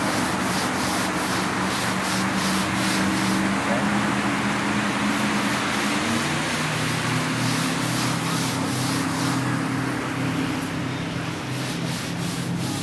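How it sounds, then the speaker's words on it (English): Steady gritty rubbing of sand over gear at a seashore during a sea water wash, continuous and close, with a low hum running beneath it and no speech. "So we're rubbing sand all over them"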